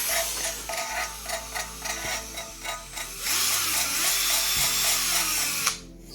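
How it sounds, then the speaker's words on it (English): A handheld drill spins against valves while they are ground in during a BMW N57 diesel engine rebuild, a whirring buzz that pulses in short repeated bursts, then settles into a longer continuous run before stopping, close and loud. "I use the drill. It works very good."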